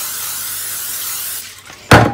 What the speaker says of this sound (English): So I have my pan here. We're going to spray it.